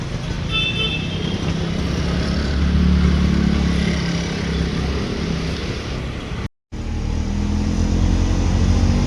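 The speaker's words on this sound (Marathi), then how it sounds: "फायनली एक रिक्षा थांबलेली आहे." An auto rickshaw engine idles and putters close by on a busy street, a steady low motor drone with passing traffic noise around it and a brief dropout partway through.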